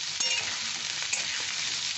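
Chicken pieces frying with black pepper in a pan give a steady close crackling sizzle with soft stirring scrapes, with nothing else over it.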